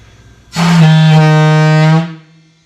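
A submarine fog horn fitted to a V12 rat rod gives a single deep, blaring blast held steady for about a second and a half, loud and close, then cut off.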